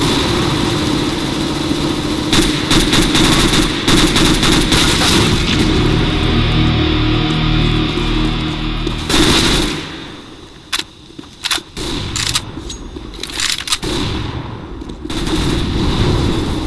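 Counter-Strike: Global Offensive gunfire comes as rapid automatic bursts and single shots over a steady game background hum, loud and close, then breaks off into scattered shots.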